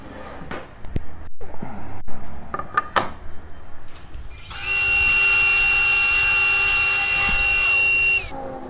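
Power saw cutting through a flooring board down to 18 mm in a woodworking shop, a steady loud whining cut of about four seconds following scattered knocks and handling sounds.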